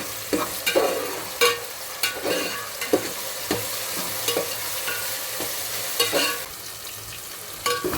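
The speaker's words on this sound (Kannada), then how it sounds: "ಟೊಮೆಟೊನು ಈರುಳ್ಳಿ ಎಲ್ಲ ಚೆನ್ನಾಗಿ ಫ್ರೈ ಆಗೈತಿ" Onion, tomato and green chillies fry in a pan with a continuous sizzle, punctuated by repeated spoon scrapes and stirring knocks at an irregular rhythm, close and moderately loud.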